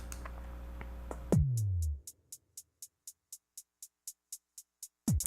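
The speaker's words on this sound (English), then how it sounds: "Which is basically a measure's worth of hi-hat." A low electronic tone drops away, then a single measure of a looped hi-hat pattern ticks out a dozen evenly spaced, crisp, bright hits in steady rhythm before another sound cuts back in.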